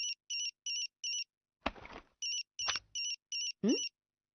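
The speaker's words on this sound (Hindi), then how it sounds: "आपका फोन बज रहा है दीदी।" A phone ringtone in a Shinchan cartoon chirps in repeated short electronic bursts, broken by a few clattering knocks and brief noises between rings.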